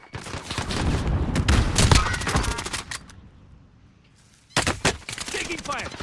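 Rapid automatic gunfire in Call of Duty: Modern Warfare rattles in loud, dense bursts, fades to a lull, then resumes in sharper volleys, with shouted voices mixed in.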